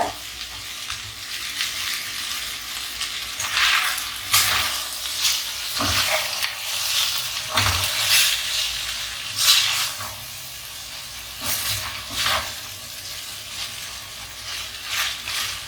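Boiled vermicelli gets stirred into fried onions in a pan over lowered heat, with a soft sizzle underneath and repeated scraping, clattering stirs at an uneven rhythm, close up and without speech.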